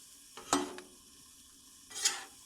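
Sausage and peppers being stirred on a griddle over low heat, two short scraping swipes with a brief sizzle, about a second and a half apart, close but quiet against a near-silent background.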